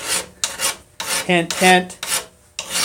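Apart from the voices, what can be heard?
hand file filing a workpiece in a vise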